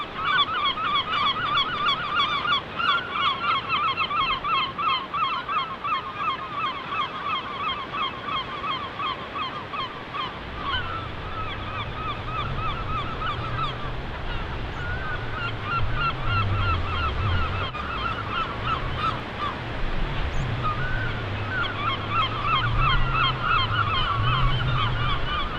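A nesting colony of herring gulls on Lundy in the Bristol Channel calls steadily, with a dense chorus of overlapping honking cries throughout and a low rumble joining partway through.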